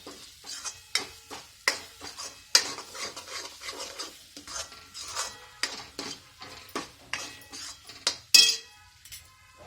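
Masala fries in oil in a pan, mostly heard as rhythmic stirring scrapes and clinks of a spoon against the pan over a faint sizzle, close and regular, no voices.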